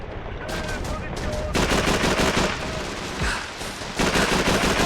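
Gunfire in the video game Call of Duty 3, rapid bursts of automatic weapon fire in close, dense volleys with brief lulls, loud and sustained, with faint game voices in the background.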